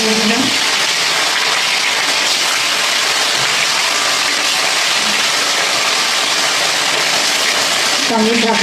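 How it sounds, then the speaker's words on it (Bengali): Fish pieces frying one after another in hot oil in a kadai for a home-style fish curry with potato, pointed gourd and bori, a steady loud broadband sizzle running throughout with a brief voice near the start and end. "মাছগুলো আমি একে একে ভেজে নিচ্ছি কড়াইয়ে তেল গরম হয়ে গেছে"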